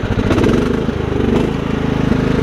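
A Kohler Command engine on a Craftsman riding mower idles down, a loud, close, steady chugging throb with a slight wavering rhythm.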